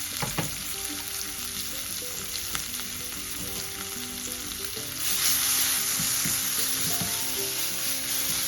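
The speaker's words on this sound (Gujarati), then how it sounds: "આદુને મરચાંને સતળાવી લેવાના" Ginger and chilies sauté in hot oil in a pan, a dense crackling sizzle that runs throughout and swells louder about halfway, with faint stirring clinks and no voices.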